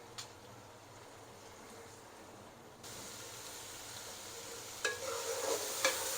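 Beef keema sizzling and being stirred while it fries in a pan on a very small gas cylinder stove; a steady low hiss of frying runs throughout, with occasional brief spoon scrapes and clinks and no talk.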